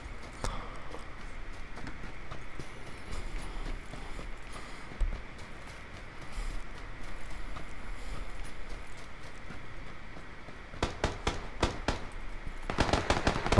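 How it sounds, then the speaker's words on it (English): Distant gunfire in the battle-royale video game PUBG rattles on faintly under a steady ambient hiss, with a closer burst of rapid shots near the end. "that's someone else shooting at someone else."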